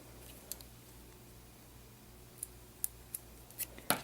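Sharp scissors snip through fabric while sewing handmade fabric flowers, a handful of quiet, crisp close cuts spaced out over a faint steady hum, quickening toward the end.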